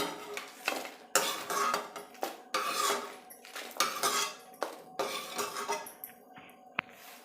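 Roasted garlic is scraped from a pan onto a plate in a home kitchen, giving a run of close, loud metallic clinks and scrapes of utensil against cookware in irregular bursts with short pauses, no voices.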